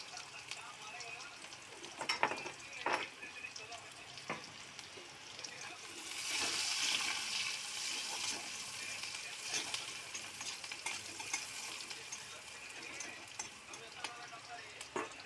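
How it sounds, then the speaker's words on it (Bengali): Onions frying with black cumin in a pan, a soft steady sizzle with occasional clinks of stirring and spoon taps, close and quiet, with a louder burst of sizzling midway. "পেঁয়াজটা ভাজা হচ্ছে"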